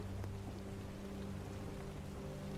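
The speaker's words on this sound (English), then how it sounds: "the rain ran sideways across the glass in trembling lines" Steady rain beating against window glass, a dense continuous patter with no breaks, fairly soft and even throughout.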